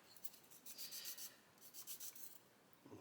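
A sanding stick rubbed back and forth across the back of a small photo-etched metal part for a 1/35 Stuka model, quiet rasping strokes in short close bursts.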